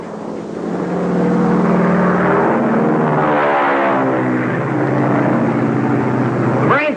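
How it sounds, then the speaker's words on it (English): A steady propeller-plane drone with harmonic engine tones from a 1935 film, rising and shifting as it passes, loud and continuous throughout. "Sounds like one of our airplanes."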